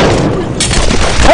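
Gunfire and explosions in the video game Evil Genius hit with a loud, dense wash of booming blasts and crackling shots that swell midway and stay heavy to the end.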